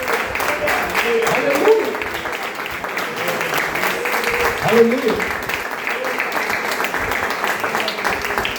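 A church congregation claps in a broad, continuous wash of applause at a family worship service, with voices shouting over the clapping.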